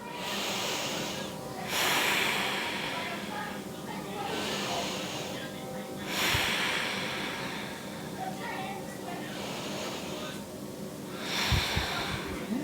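Slow, deep breaths during a standing mountain pose in a pelvic-floor yoga session, each long airy inhale and exhale swelling and fading in a steady rhythm, close and clear, with a few sharp nasal snorts near the end.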